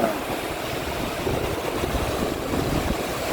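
Sea waves wash steadily at Murudeshwar beach, a continuous broadband roar of surf mixed with wind buffeting the microphone, loud and unbroken throughout.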